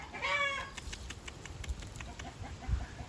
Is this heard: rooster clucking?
yes